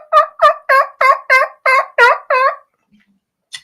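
A turkey gobbles in a rapid series of about eight loud, close, rhythmic calls, then falls quiet apart from one faint call at the end.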